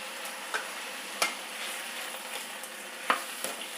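Brinjal sautéing with salt in a pan over a slow flame gives a soft, steady sizzle, broken by a few sharp scrapes and clicks of a spoon stirring against the pan.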